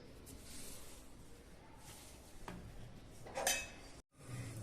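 A utensil stirs dry ingredients with jaggery and ghee in a pan for kachu katlu, making faint scraping and clinking sounds with a brief louder scrape near the end and no speech.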